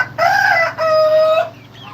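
Inside a crowded chicken coop, a small rooster crows loudly and close in two drawn-out strained phrases, with faint clucking from the huddled hens underneath.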